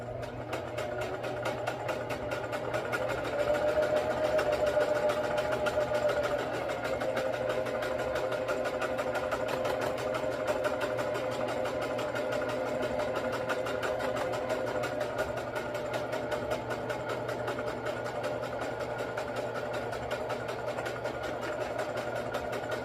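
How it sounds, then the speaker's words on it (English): A serger overlock machine stitches along fabric for a pair of pants, giving a steady, rapid mechanical whir with fast rhythmic ticking that runs unbroken the whole time. It sounds close up, with no talking. "I'm gonna go over it with the serger so I don't have to do any backstitching"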